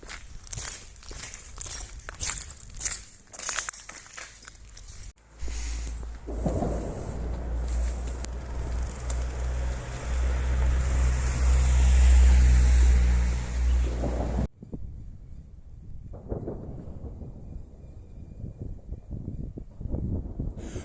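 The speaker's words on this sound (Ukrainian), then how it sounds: "Ось звуки вечірнього Маріуполя." Outdoor evening ambience in Mariupol with wind buffeting, a low rumbling swell in the middle, and scattered footsteps and distant activity; no talking.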